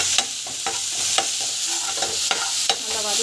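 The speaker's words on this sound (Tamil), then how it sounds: "இஞ்சி பூண்டு பேஸ்ட்டு நல்லா வதக்கணும்." Ginger garlic paste sautés in hot oil with mustard seeds, cumin and onion paste, giving a constant close sizzle. A spoon scrapes and stirs the pan in sharp, regular strokes.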